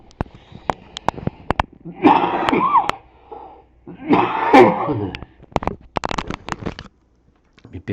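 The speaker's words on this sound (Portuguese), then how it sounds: "Me perdoem aí pela essa tosse chata." Two harsh, raspy coughing bursts close to the mic, separated by short pauses, with scattered clicks and handling noises around them.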